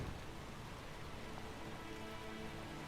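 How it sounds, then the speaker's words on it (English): Steady rain in the video game Stormworks falls and patters on surfaces, a continuous dense hiss with no voices. "Or is that just rain hitting? I think it is rain."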